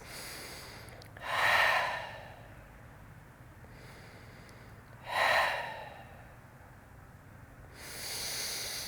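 Slow, deep breaths during a yoga shoulder-release exercise, with two long audible exhales about four seconds apart and a third starting at the end, each a soft breathy rush rising and fading over a quiet background.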